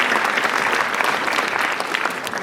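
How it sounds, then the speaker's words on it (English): A room full of parents at a talk on the teenage brain claps for one another in a thick, even burst of applause that holds steady throughout. "Let's give each other applause."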